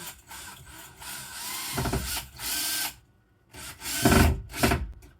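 A power drill drives a screw into wood in several short bursts, grinding and rattling as the screw strips out, with brief pauses between.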